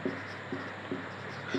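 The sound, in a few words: writing the solution by hand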